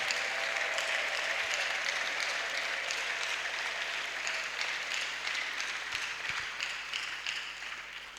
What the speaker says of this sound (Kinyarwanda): niyongere ayikomere amashyi ayishimire